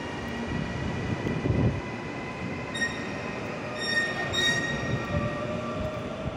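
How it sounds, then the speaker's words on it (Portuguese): A train at a railway station in São Paulo, its rumbling carriages and wheel noise steady throughout, with thin high squeals and a few tonal whines rising briefly partway through. "Aqui é a estação de trem,"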